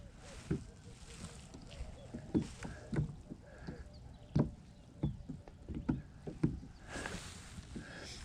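A kayak sits on a dam's water during bass fishing, with soft paddle dips, hull knocks and water sloshes at close range, plus occasional light wind and faint background sounds.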